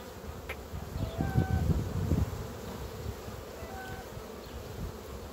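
Honey bees buzz steadily around an opened hive during a pollen check, a close, dense hum that swells briefly and then settles into a constant drone.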